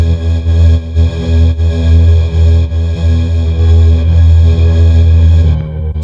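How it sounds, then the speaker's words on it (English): A synthesized exhale-style instrument with an automated rhythmic pattern, pulsing steadily and loudly with a heavy low drone and layered effects-processed tones, fading out near the end. "Another thing I created more movement in was this exhale instrument."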